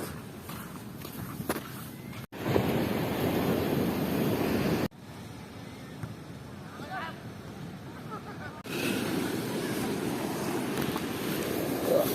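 Surf at a cold morning beach in Zambales rolls in as a broad, steady wash with wind buffeting the microphone, alongside footsteps on sand and a few abrupt cuts; moderately faint throughout.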